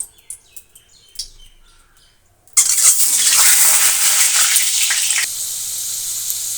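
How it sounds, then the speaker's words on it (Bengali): Peeled boiled eggs drop into hot oil in a pan, setting off a sudden loud, steady sizzle and crackle that holds close and strong, then eases slightly toward the end. "এখন আমি দিয়ে দেবো তেলের মধ্যে সেই সিদ্ধ করে ছুলে রাখা সেই ডিমগুলো"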